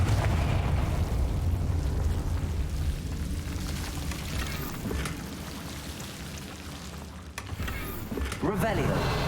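Loud, continuous roaring blasts from the Confringo fire-blasting spell in Hogwarts Legacy on PC, a sustained rumbling, crackling barrage with a sharp burst near the end.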